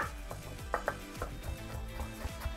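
Knife slicing through fresh ginger on a cutting board, a run of close, sharp chopping taps in an uneven rhythm, with a few louder knocks against the board.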